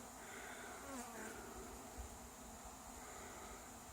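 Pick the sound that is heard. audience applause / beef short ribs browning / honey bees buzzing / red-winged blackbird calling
honey bees buzzing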